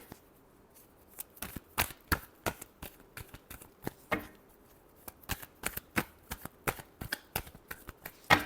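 Tarot cards are shuffled by hand in a quiet room, with crisp irregular riffling bursts and soft slaps that come in clusters and pause between them.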